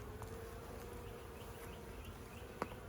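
Honeybees from a swarm trap buzz softly around a brood frame, a dense, even hum of many wings close by with no talk.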